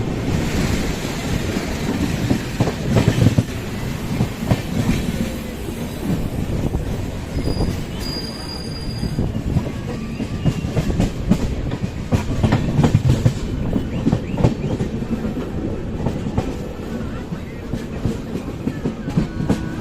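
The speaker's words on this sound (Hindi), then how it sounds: "देखिए ये मालगाड़ी डायरेक्ट सीमेंट फैक्ट्री से आ रही है अभी बाहर।" A freight train coming from a cement factory rumbles past nearby in India, steady heavy rolling noise with rhythmic clatter of wagons continuing throughout, no pauses.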